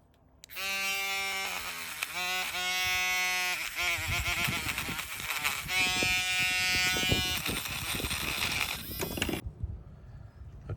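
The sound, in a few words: small rechargeable Dremel rotary tool with metal brush on pewter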